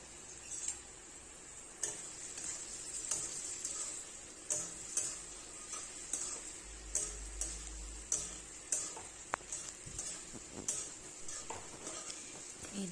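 Silkworms are stirred and fried in a pan Assamese style, giving a soft, continuous sizzle broken by repeated scraping and clicking strokes of the spatula at a steady, unhurried rhythm.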